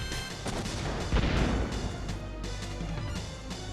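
A hand cannon fires in the video game Wild Arms, a booming, crashing blast with a rumbling tail over game sound effects.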